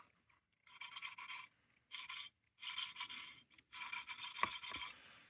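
Abrasive-bristled pipe cleaner scrubbing rust off a lantern, heard as several close, raspy back-and-forth scraping strokes in short uneven bursts separated by brief pauses, with a small knock near the end.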